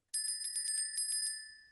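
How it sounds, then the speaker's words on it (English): A bicycle-type bell used as a money bell sound effect rings in a rapid series of bright, clear dings that fade out, loud and isolated. "Fraser, sounds like the money bell."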